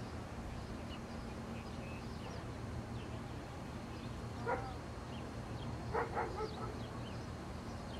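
A dog barks from inside a house during a police standoff, heard as short distant bursts around the middle and near the end over a constant low background hum.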